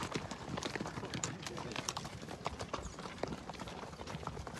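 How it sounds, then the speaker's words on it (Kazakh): Horse hooves clip-clop steadily at an ulak (kok-boru) game on a jailoo pasture, dense and busy at mid distance amid crowd noise, with no clear speech. "Аттар деле көп деле эмес."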